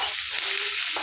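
Green chillies fry in hot oil with garlic and cumin in a home kitchen, giving a loud, steady sizzle that runs unbroken for the whole moment with no talking.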